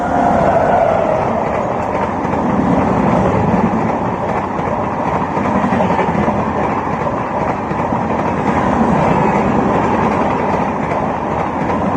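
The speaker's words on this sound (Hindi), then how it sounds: "ये थी हमारी छत्तीसगढ़ एक्सप्रेस" The Chhattisgarh Express passes close by with a loud, steady rumble and rhythmic clickety-clack of wheels on rails, sustained throughout without voices.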